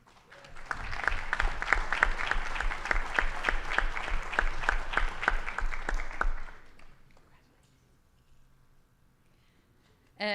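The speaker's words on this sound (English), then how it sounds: "deserves a round of applause" Audience applause at a school committee meeting: a room claps enthusiastically for about six seconds with individual claps standing out, then it fades to quiet room tone and a voice briefly at the end.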